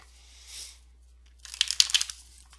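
Tarot cards are shuffled in two short bursts of soft papery riffling and crinkling, the second louder with quick flicks, close and otherwise quiet.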